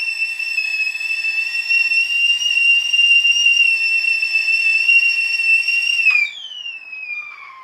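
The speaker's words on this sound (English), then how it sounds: "Never put your arm in front of this tea kettle when it's whistling." A loud, steady high-pitched kettle whistle holds for about six seconds, then drops in pitch and fades as it dies down.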